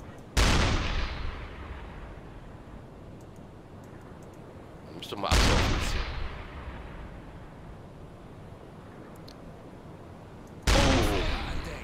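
Three heavy booms from a submarine's deck gun in the U-boat game UBOAT, spaced about five seconds apart, each a sharp loud blast trailing off into a rumbling decay, with brief spoken German between shots.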